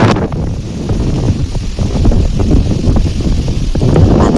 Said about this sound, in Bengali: বাতাসের সাউন্ডটা শুনেছেন?